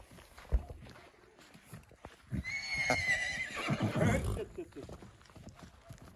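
A mare gives a loud, drawn-out whinny close by, with thudding hooves and shuffling around it and a few low sounds before.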